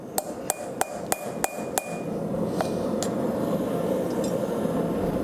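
Hammer blows on heated rebar being forged into blacksmith tongs: six sharp ringing strikes in steady rhythm over the first two seconds, a couple of lighter taps later, against a constant roar of forge fire.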